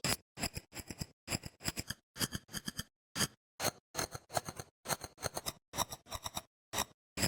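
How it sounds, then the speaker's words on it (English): Chopped, clicky sample processed into crunchy, compressed MP3-style digital artifacts, firing in quick stuttering bursts separated by short gaps, loud and dry with no voice over it. "I ran a chopped clicky sample through Digitalis, giving it that compressed MP3 style artifacting"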